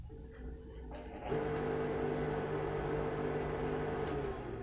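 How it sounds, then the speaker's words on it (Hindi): A home water pump motor runs after a bearing change: a faint background that jumps to a steady, even hum with a constant tone and no rattles or knocks. "बिल्कुल हमारी मोटर प्रॉपर चल रही है, कोई एक्स्ट्रा साउंड नहीं है"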